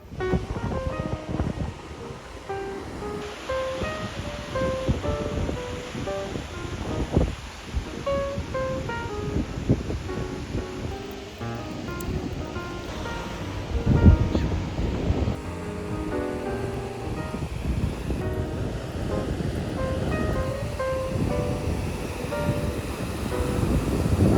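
Ocean waves lap continuously at Lyall Bay beach under steady wind and microphone buffeting, a loud, even wash of surf with no speech.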